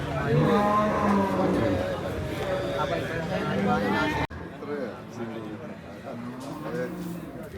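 Cattle moo repeatedly at the Cholakkal livestock market in Manjeri, with loud nearby lowing mixed with people talking and general market chatter.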